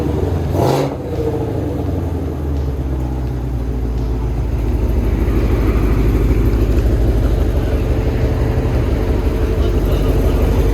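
An 1100 hp Shelby with a custom exhaust revving, a deep, loud, steady engine drone that builds and holds throughout, close to the car.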